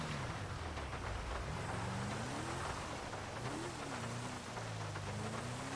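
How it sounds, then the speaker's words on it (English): Night rain in the GTA 5 video game, a dense steady hiss of rainfall with a low engine drone shifting in pitch beneath it, continuous and fairly loud, no speech. "The night rain looks really good."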